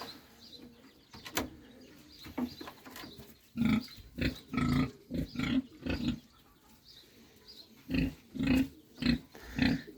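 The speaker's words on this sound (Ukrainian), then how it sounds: "Отакий, друзі, кнур." Rhythmic low grunts from a boar, several bursts in a row, close and fairly loud, with short pauses between them.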